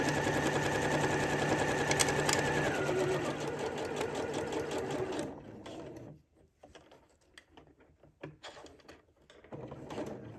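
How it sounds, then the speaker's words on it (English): Sewing machine running a long basting stitch through a Butterick B6872 garment, a steady close mechanical whir for about five seconds that stops, followed by quieter handling clicks and rustles. "So I have the longest stitch on my machine,"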